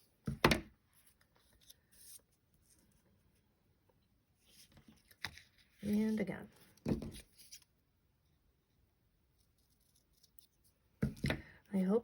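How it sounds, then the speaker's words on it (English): Scissors snip through paper while cutting pieces for a stained glass collage, a handful of sharp, close crisp cuts spaced out over several seconds in a quiet room, with a short spoken phrase between them. "Sometimes it's just easier to cut with the scissors."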